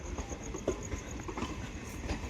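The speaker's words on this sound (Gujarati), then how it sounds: "ઓલી સાઈડમાં તો એક ટ્રેન આવી ગઈ છે ટાણે" A train rumbles past close by at a station, a dense steady roar of wheels on rails with a faint rhythmic clatter.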